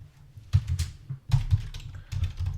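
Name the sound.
typing code on a computer keyboard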